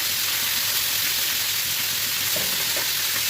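Meat frying in hot oil and being stirred, with a loud, steady, close sizzle that goes on without a break.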